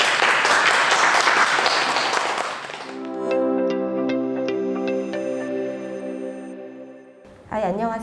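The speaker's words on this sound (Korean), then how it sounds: "박수로 환영해 주십시오." Applause from a lecture audience in Korea welcoming a professor to the podium at an architecture exhibition curation talk, a dense burst of clapping for about three seconds that gives way to sustained musical tones, with a brief voice near the end.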